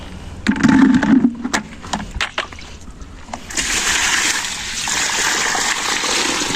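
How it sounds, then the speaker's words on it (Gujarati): Water from a bucket, poured onto plants outdoors, splashes and clatters for a few seconds. A steadier rushing pour follows, with broadband hiss filling the second half. "તો હવે પાછા આપણે આવી ગયા અહીંયા ઝાડવા પાવા"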